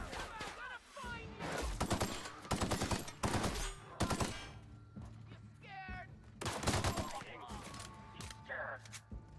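Bursts of gunfire in The Outer Worlds: short, punchy volleys of rapid shots separated by brief pauses, fairly close and sharp, with some scattered game sounds between them.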